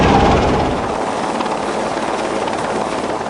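A helicopter hovers during a sea rescue evacuation drill, its loud, steady rotor and engine roar filling the whole stretch close by without pause.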